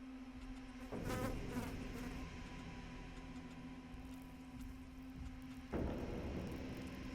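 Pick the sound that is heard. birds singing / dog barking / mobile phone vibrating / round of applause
mobile phone vibrating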